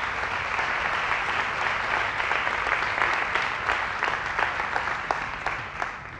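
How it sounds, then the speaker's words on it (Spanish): Full audience applause at an in-person conference talk, a thick continuous roar of clapping hands with a few sharper claps standing out, tapering slightly toward the end. "Un aplauso para mis padres,"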